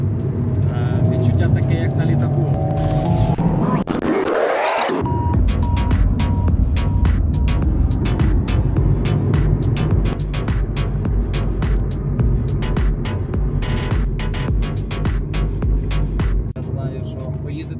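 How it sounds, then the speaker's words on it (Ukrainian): Alpine A110 sports car cruising on a French motorway, a steady engine and road drone running loud and continuous throughout, with a brief rising whoosh early on and people talking inside the car. "Ми зараз їдемо магістралю."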